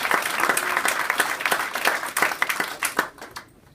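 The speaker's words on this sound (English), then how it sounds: "deserves a real round of applause" Guests at a celebratory dinner at Lal Qila give a round of applause, a dense crowd of clapping hands that holds steady and then thins out and fades toward the end.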